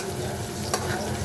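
Onions sautéing in a pan for chicken-feet adobo, with a steady sizzle and soft scraping from stirring and a single brief utensil clack midway, close and moderately quiet.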